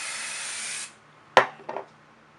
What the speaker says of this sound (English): And then take some hairspray